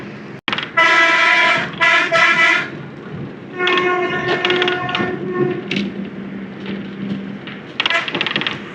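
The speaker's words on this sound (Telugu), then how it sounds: "రైల్వే ట్రాక్లో ఒక ట్రైన్ కూడా పోతుంది, గూడ్స్ ట్రైన్." A goods train runs along a railway track beside the road between Visakhapatnam and Srungavarapukota, its horn blaring in several long tonal blasts over a rumbling background.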